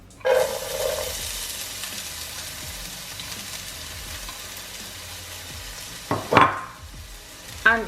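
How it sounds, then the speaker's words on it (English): Chopped onions hit hot oil in a preheated pan with a sharp burst of sizzling that settles into a steady frying hiss, broken by a few clattering stirs and a clink near the end. "What I'm going to be adding in our preheated pan is some oil and our chopped onions."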